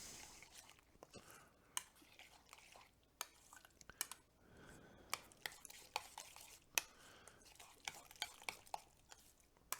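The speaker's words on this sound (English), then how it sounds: "And I'm just going to stir this" Spoon stirring Mediterranean meatball yogurt sauce in a bowl, soft wet scraping with frequent light clinks of utensil against the dish, quiet and close, in an irregular rhythm.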